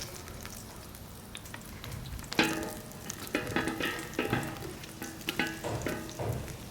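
Onions sautéing in a pan for a plant-based Hungarian goulash: a steady close sizzle with sharp clatters and stirring scrapes, louder after the onions hit the hot pan.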